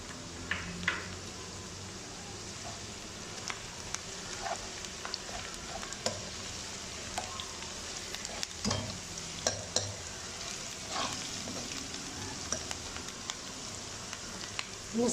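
Garlic and ginger frying with softened onions in a pan for an arbi and baingan curry, giving a steady close sizzle with scattered scrapes and clicks of stirring and no talking.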